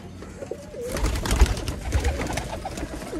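A black pigeon coos in low, rolling phrases close by, joined by a rise in rustling and fluttering bird activity midway through.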